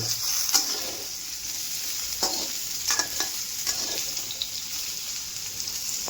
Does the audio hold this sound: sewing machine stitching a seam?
no